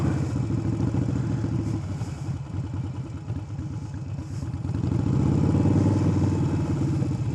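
Up close in a parking lot during practice drills, a motorcycle idles with a steady, low, throbbing beat that dips briefly midway and then swells louder for the last few seconds.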